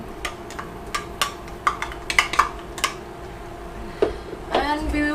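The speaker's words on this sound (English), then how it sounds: "And we will fry the garlic until it smells good and ready." Garlic frying in oil in a pan for chicken fried rice comes with a run of sharp clinks and scrapes from a utensil against the pan, closely miked, with a soft sizzle underneath and a brief burst of frying noise near the end.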